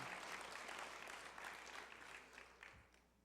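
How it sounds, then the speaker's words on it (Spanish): A church congregation applauds during a sermon, a dense continuous roll of clapping from many hands that gradually fades toward the end. "eso merece un aplauso, mi hermano"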